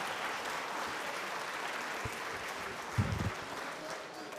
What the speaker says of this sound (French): Je vous demande d'applaudir Monsieur Philippe Radal.